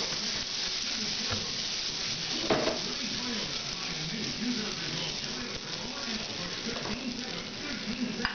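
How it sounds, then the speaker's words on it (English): Butter sizzling in a frying pan for a bacon pancake, a steady close crackle and hiss with some faint scraping, with speech-like sounds in the background. "So, got my pan, have some butter in there."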